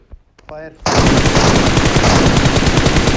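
Sustained rapid automatic gunfire in a PUBG match at the military base, loud and continuous after a short voice and brief opening sounds, with bursts running close together to the end.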